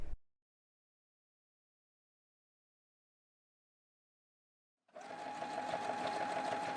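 A sewing machine runs a straight stitch through denim after a short silence, its steady mechanical whir starting near the end and holding at a constant, close, moderately loud level.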